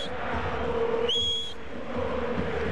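A football coach at a San Lorenzo versus Gremio match gives one sharp, high whistle lasting about half a second, clearly audible over the steady murmur of a distant stadium crowd.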